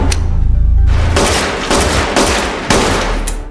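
Gunfire in a film action scene as bullets fly at a hitman: loud, booming shots and bursts in quick succession, with heavy low rumble and sharp cracks, no voices over them.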